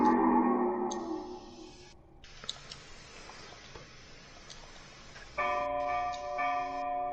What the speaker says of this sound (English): Yes, you hear that bell, and it sounds like it's coming from straight up